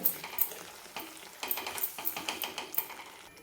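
Fenugreek leaf (methi) bhaji being stirred in a pan, with a series of rhythmic scraping strokes and light clinks over a gentle sizzle, close and moderately loud.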